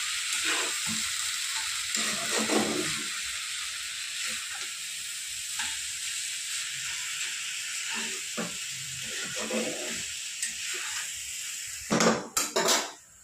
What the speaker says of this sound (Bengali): আরো 15-20 মিনিট আমি এরকম ভাজা ভাজা করব